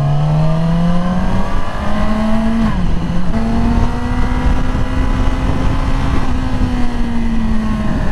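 A 2020 Yamaha R6 sport motorcycle revs hard and accelerates, its engine pitch climbing through repeated gear-like sweeps, loud and close throughout with no talking.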